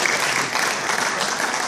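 Continuous applause fills a table tennis season-closing awards ceremony in Międzyzdroje, a dense, steady, fairly loud patter of many hands clapping with no pauses.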